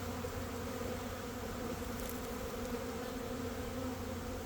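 Honey bees hum constantly around an open hive during an inspection, a dense, even buzzing close by that holds steady throughout without speech.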